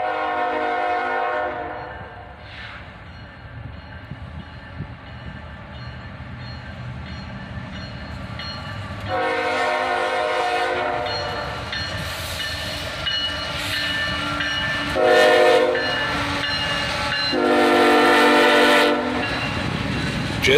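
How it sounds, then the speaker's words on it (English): A CSX southbound freight led by a single ES-44ACH locomotive rumbles past with open boxcars, sounding several loud horn blasts over the steady roll and clatter of the wheels. "Just one locomotive on this train, an ES-44ACH"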